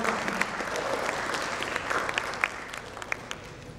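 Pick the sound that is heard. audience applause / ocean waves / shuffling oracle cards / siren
audience applause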